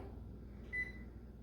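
A bread machine starts cycle 5 for gluten-free bread, giving a single short electronic beep over a low, steady hum.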